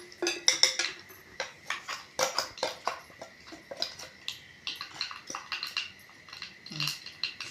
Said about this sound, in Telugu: ఇప్పుడు ఈ పచ్చడిని ఈ గిన్నెలోకి మార్చుకుందాం.